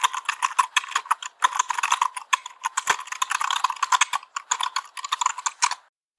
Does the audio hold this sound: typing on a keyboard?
yes